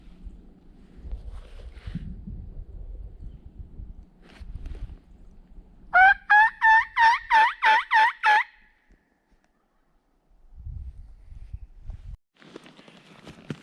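A wild turkey gobbles in a rapid, rattling series of about seven loud pulses during a spring hunt in wooded ridges. Quiet rustling and footsteps come before and after it.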